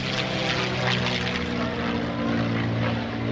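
A P-51D Mustang propeller aircraft flying a 16-point hesitation roll at the 2016 NAS Oceana airshow, its engine droning loud and steady with a rough, throaty growl throughout.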